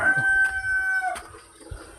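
A loud, close rooster crow near a chicken coop with a long sustained note that breaks off after about a second, followed by quieter background sounds.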